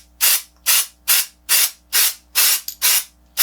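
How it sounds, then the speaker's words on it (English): Hairspray misted onto styled hair during a glam Beetlejuice Halloween makeup look, heard as seven steady, evenly spaced bursts of loud hissing spray, each lasting about a third of a second, with short pauses between. "just give it a little spray around the hairline at least"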